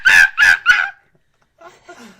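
A person imitates a kookaburra call with their voice, three loud, close, honking whoops in quick succession, followed after a pause by softer voice sounds.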